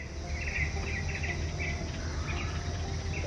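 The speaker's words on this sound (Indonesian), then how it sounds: "terdengar burung berkicau, alami sekali" Birds chirp lightly in the distance against steady outdoor ambience with a soft insect-like buzz, on a shaded road through Cangar between Batu and Mojokerto, Indonesia.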